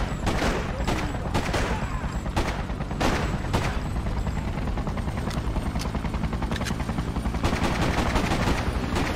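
Gunfire in the video game Freedom Fighters crackles in repeated loud bursts, sharp rapid shots and short volleys over a constant rumbling background, close and intense throughout.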